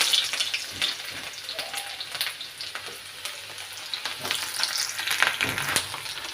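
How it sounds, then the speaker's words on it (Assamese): Onions sizzle and crackle in hot oil with panch phoron in a wok, a continuous moderate fry with occasional stirring scrapes and small pops. "পিঁয়াজখিনি এনেদৰে অকণ ভাজি লৈছোঁ, ৰঙচুৱা নোহোৱালৈকে ভাজি থাকিব এনেদৰে।"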